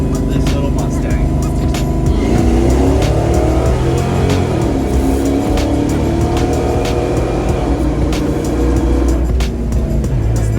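A Fox body Mustang with its front and rear tires swapped, running slicks, drives with a steady, loud engine drone and shifting pitch throughout, with faint voices partly buried beneath it.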